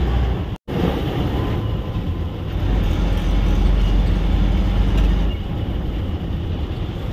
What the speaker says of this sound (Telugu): రాయచోటి నుంచి కడపకైతే బయలుదేరింది ఇంకా బస్సు